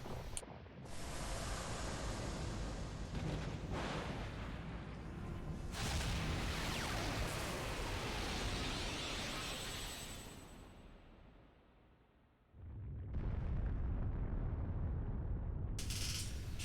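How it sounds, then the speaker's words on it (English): Soul cannon impact in the game Fuga: Melodies of Steel 2, a long roaring noise burst with a mechanical grinding texture that swells, dies away to near silence, then erupts again in a loud blast. "Imminent attack incoming. 2 seconds to soul cannon impact."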